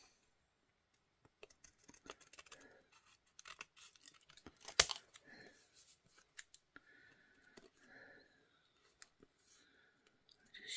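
Scissors snip around a template for a Christmas craft, making sparse, close, crisp cuts spaced irregularly through a quiet room, with one sharp louder snip partway through.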